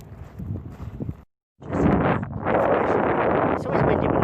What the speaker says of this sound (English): It's always windy when I film